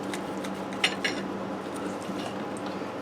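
Knife and fork working through a cooked, juicy pork chop on a plate, giving a couple of sharp metallic clinks against the dish over soft scraping and faint background hum.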